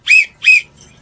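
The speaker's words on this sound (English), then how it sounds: "blow my whistle like this" Two short, bright blasts from a tour guide's whistle, close and loud, separated by a brief gap, with no talk.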